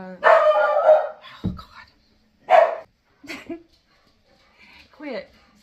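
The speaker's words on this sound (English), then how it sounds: "Stop barking." A dog barks in several loud, close bursts, spaced apart, with a person's voice speaking between and over them.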